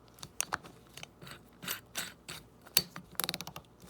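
The metal chuck of a Milwaukee drill ratchets as it is turned by hand, giving a series of close, crisp clicks and bursts, irregular at first, then a quick run of rapid clicks near the end.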